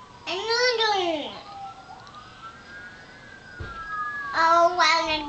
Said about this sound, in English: Do you hear sirens?